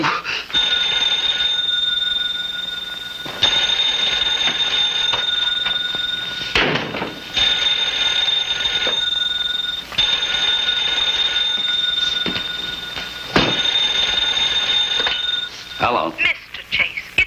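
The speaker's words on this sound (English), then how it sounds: "Doorbell." A doorbell-style electric bell rings in four long sustained bursts with short gaps, loud and close, in a 1951 detective drama office scene, ending with a brief noise after the last ring.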